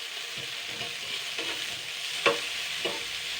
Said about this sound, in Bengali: দুই মিনিট মতন হালকা নাড়াচাড়া করতে হবে এটাকে